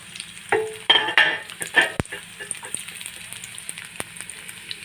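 Coconut pieces drop into hot oil and sizzle in short bursts with stirring clatter, loudest early then settling into a quieter crackling fry.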